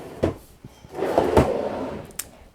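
A drawer in a small craft room slides and knocks shut, with a quick opening thump, a rolling wooden scrape in the middle and a final clack, close and fairly loud with no voices.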